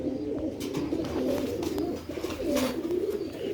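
Rooftop pigeons coo in repeated low throaty rolls, several birds overlapping close by over a steady background hum.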